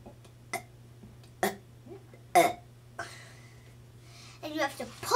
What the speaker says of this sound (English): I'm going to teach you how to burp